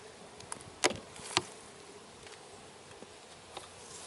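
Buckfast honey bees at a hive give off a faint, steady buzzing hum, broken by a few brief, sharp ticks close by.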